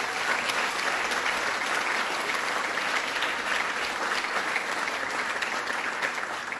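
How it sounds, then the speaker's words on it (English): A crowd at the 2013 Adirondack Challenge awards ceremony gives a sustained, even round of applause, a steady roar of clapping that holds for several seconds without talk. "Let's give them a round of applause."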